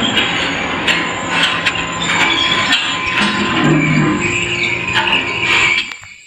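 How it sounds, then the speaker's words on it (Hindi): A lift in the horror video game Granny 3 runs continuously with a steady mechanical hum, rattling and squealing metallic tones, and clicks. It cuts off abruptly at the end. "ये अभी तक आवाज क्यों आ रही है लिफ्ट की"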